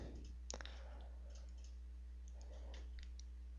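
Faint, sparse clicks of a computer mouse used in SOLIDWORKS CAD software sound over a steady low electrical hum, with a few small clusters of quick taps.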